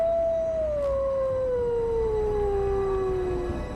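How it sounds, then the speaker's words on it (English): A lone wolf howls in the distance: one long, sustained wavering note that slowly falls in pitch over several seconds, clear above a faint background hush. "Even the sound of a wolf howling in the distance was enough to fill a"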